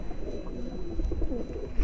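Large Lalsire pigeons of a Tonk line coo softly in a loft, a low rolling burbling call repeated close by over faint background noise, with a brief knock at the end.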